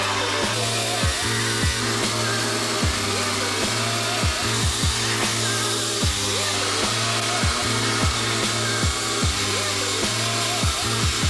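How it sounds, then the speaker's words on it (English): A reciprocating saw (Sawzall) cuts through the hood of a BMW E30 with an S54 engine: a loud, continuous motor drone with rapid rhythmic chattering strokes throughout. "now I resorted to using a Sawzall for the stuff inside the hood"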